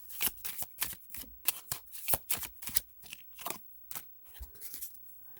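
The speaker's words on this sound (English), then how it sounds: "I'll be here all day shuffling" Tarot cards are shuffled in quick riffles and slides, a series of crisp papery bursts with short pauses between them, close and fairly quiet.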